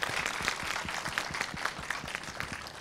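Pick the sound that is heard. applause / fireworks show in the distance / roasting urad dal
applause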